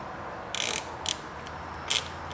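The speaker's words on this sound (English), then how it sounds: "Take our 1/4-inch ratchet and our T20 Torx." A quarter-inch ratchet with a T20 Torx bit works the screws of a MAP sensor on a car intake, giving three short bursts of close, crisp clicking separated by pauses.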